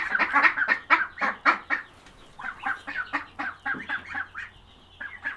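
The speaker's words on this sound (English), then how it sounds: "These are our Pekin ducks." Pekin ducklings make a run of rapid, rhythmic quacking calls, close and clear, with a short lull partway before the chatter picks up again.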